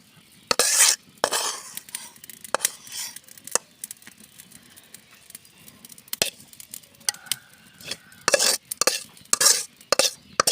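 Bean and cauliflower stir-fry scraped and poured from a pan into a bowl, with scattered clinks and bursts of spoon scraping against metal, loud in places with quieter gaps between.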